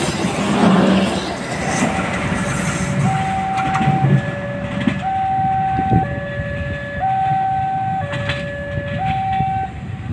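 A power-generator car at the end of a train rumbles past nearby, a steady roar of wheels and rails, while a two-tone bell or horn rings repeatedly over the noise.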